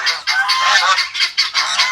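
A goose gives a rapid run of loud, nasal honks, about eight in two seconds, close by with no other sound around it.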